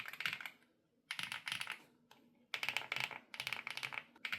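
Keys clack in quick bursts on a Bridge75 mechanical keyboard fitted with violet switches, with clusters of crisp strokes separated by short pauses, close and fairly quiet.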